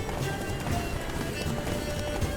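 A horse gallops in the video game The Witcher 3: Blood and Wine, rapid hoofbeats thudding in a steady rhythm under a dense, busy game soundscape, fairly close and continuous.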